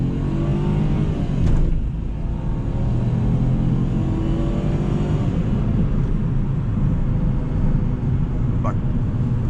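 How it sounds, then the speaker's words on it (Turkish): A Citroen C3 with a 1.2 PureTech engine pulls at full throttle from about 30 km/h, its engine drone steady and rising under someone talking over it from inside the cabin. "Şöyle bir dip gaz yapıyorum arkadaşlar bakın 30'dan dip gaz yaptım."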